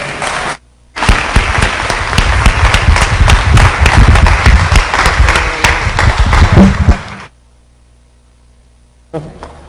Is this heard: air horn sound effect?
no